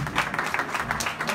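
A church congregation at a prayer house clapping together in thanks, a dense, steady burst of applause filling the short clip, fairly close and alone.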